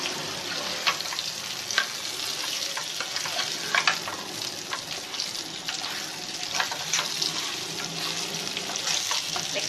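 Stuffed chilies fry in hot oil with half a teaspoon of turmeric being stirred through, a steady close sizzle broken by repeated scraping and clicking stirs, with no voices.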